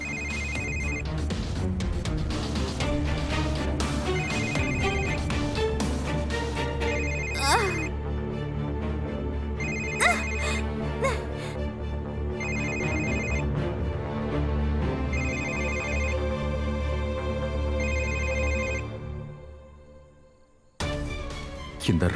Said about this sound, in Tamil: இது என்னோட போன் சத்தமாச்சே.